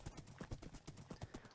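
In Minecraft, a horse clip-clops along rails, its hooves making a quick, uneven run of soft clopping steps, fairly faint and heard alone.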